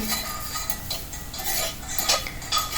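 A metal utensil scrapes and clinks against a cast iron tava while spicy vegetables with chili powder and herbs are stirred, making close, continuous scraping with irregular clinks and no talk.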